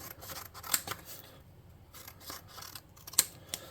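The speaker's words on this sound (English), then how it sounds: "let's just get some cardstock and some scissors." Scissors snip through cardstock nearby, with quiet crisp cuts and a couple of sharper clicks spaced irregularly over a few seconds in a calm indoor room.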